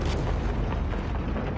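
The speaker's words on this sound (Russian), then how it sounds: "Гранаты все взрывают." Grenades exploding in Battlefield 4 during the Siege of Shanghai map, a dense, continuous roar of close, loud blasts.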